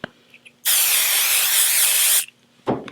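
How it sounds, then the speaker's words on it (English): A single steady burst of 505 temporary adhesive spray hisses onto fabric stabilizer for about one and a half seconds, close by, followed by a short rustle. "I'm going to spray it generously with some 505 spray"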